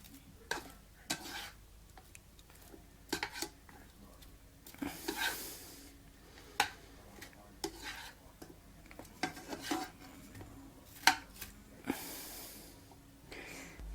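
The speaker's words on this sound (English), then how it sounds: "I'm going to start stirring this" Sausage and vegetables are pushed around a hot pan for spaghetti, making soft repeated scraping and stirring strokes over a faint sizzle, close and fairly quiet, with a few louder clanks along the way.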